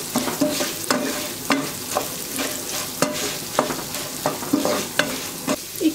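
Rice stirred and sautéed in a pan with butter and salt: repeated scraping strokes of a spoon against the pan in a steady rhythm over a soft continuous sizzle, close and moderately loud, with no talking.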